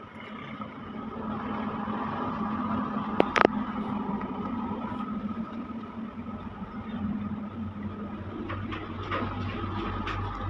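A sewing machine hums steadily while stitching magzi piping along the upper side of a child's sherwani, a continuous mid-level drone with a brief clack partway through.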